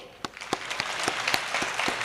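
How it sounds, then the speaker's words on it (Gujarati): A short burst of audience clapping at a public speech, rhythmic and fairly close, with claps falling at a steady beat over a wash of scattered applause. "તાળી પાડો."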